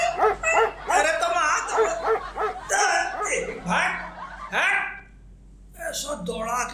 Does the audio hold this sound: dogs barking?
yes